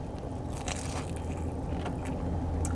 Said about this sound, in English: Looks nice and crunchy.